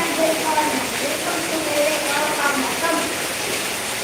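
Heavy rain pours steadily over a village, a loud, even wash of noise with a voice talking faintly beneath it.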